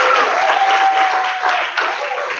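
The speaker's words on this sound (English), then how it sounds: "Another round of applause, please." Audience applause for student council candidates at a student representative forum, a short burst of loud, dense clapping with a faint tone running underneath.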